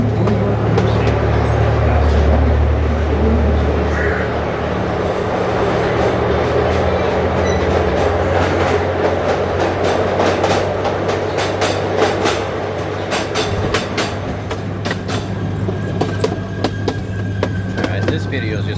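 Tulsa Zoo train ride heard from aboard: a loud, steady rumble of the moving train with rhythmic clicking of wheels over rail joints that grows sharper toward the end.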